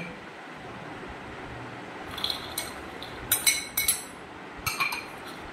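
Soaked chickpeas tipped into a bowl for chola makha make several bright, close clinks and rattles in short clusters over a quiet, hissy background.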